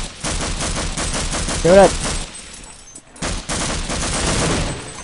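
Gunfire in the Half-Life video game, dense rattling bursts with a brief lull in the middle, loud and close, while a player speaks briefly over the shooting.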